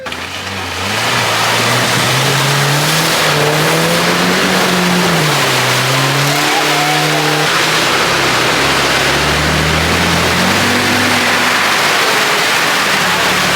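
Big Red, an off-road vehicle on a muddy scrub track at Glasshouse, revs its engine through mud, the loud close engine note rising and falling in pitch throughout over heavy churning noise.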